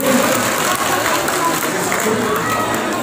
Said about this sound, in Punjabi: ਇੱਕ ਵਾਰ ਜ਼ੋਰਦਾਰ ਤਾੜੀ ਲਾ ਦਿਓ ਜੀ ਇਹਨਾਂ ਦੇ ਲਈ